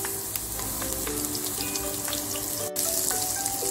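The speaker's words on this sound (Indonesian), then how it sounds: "Ini saya tumis bawang putih yang saya cincang, bawang bombay yang saya iris panjang, dan ini jahenya saya iris" Chopped garlic, long-sliced onion and sliced ginger sauté in a pan with a steady, close sizzle that holds evenly throughout, broken only by a brief dip near the end.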